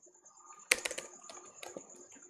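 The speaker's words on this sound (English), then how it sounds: "Let me use the keyboard." Keys tapped on a computer keyboard in a quick irregular burst of close clicks, with a faint steady high whine behind them.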